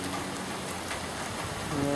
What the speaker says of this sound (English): More heavy rain than anything,